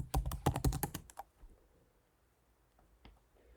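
Quick bursts of clattering keystrokes on a computer keyboard, close and fairly quiet, then a brief pause and a single faint key press near the end.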